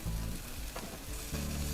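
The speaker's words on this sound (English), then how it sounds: "What you want to see is you want to see it starting to split like that and sizzling like that." Sausages sizzle on a hot grill as their casings begin to split, giving a steady close crackle and hiss with a few sharp pops and no voices.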